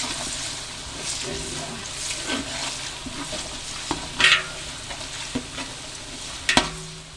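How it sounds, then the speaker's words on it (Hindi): Garlic paste and coriander powder fry in a pan with a soft sizzle, broken up by stirring scrapes and a few clinks of a spoon. No voice is heard. "तो अब ये मैं इसमें लहसुन का पेस्ट डाल रही हूँ, 4 खाने के चम्मच।"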